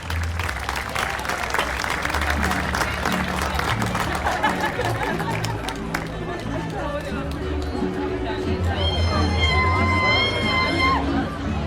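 A large outdoor audience at a harvest festival in Cerna applauds the folk dance ensemble KUD Elizabeta from Jalžabet. Loud, dense clapping runs throughout with crowd chatter, and brief musical tones rise near the end.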